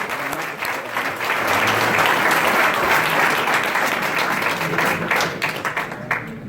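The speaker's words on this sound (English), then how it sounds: "Can we give him a round of applause?" A crowd of listeners claps steadily for a visiting speaker, the applause swelling quickly, holding loud and full for several seconds, then thinning into scattered claps.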